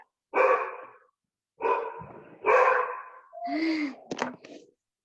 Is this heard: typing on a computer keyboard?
no